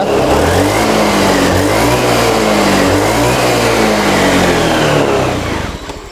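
A car engine is revved hard with the throttle held open, giving a loud, sustained roar whose pitch rises and dips in waves before easing off at the end.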